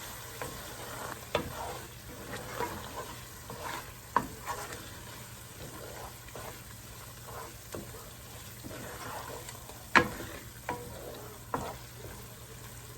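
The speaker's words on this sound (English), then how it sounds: "Stir it up and use that wine to get all that flavor off the edge of the pan, off the bottom of the pan" Onions stirred in a hot pan as wine reduces for French onion soup, a steady sizzle broken by repeated scraping and clacking strokes of a spoon across the pan bottom, close and fairly quiet, with no talk.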